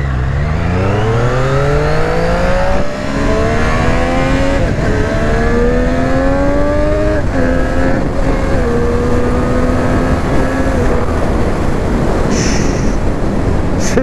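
Triumph 765 Street Triple RS 2020 motorcycle accelerating in sixth gear, a loud, continuous engine note climbing steadily in pitch with brief dips at shifts, heavy wind rush throughout and no talking.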